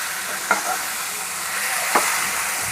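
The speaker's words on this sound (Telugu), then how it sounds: "జాగ్రత్తగా ఫ్రై చేసుకోవాలి." Tandoori chicken pieces frying in a pan on high flame give a steady, close sizzling hiss, broken by two sharp spatula clicks as the pieces are turned.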